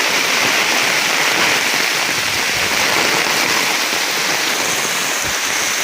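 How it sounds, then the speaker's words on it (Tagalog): Heavy, steady rain pours down in a dense, continuous hiss with no pauses or voices. "grabe yung bagsak ng ulan"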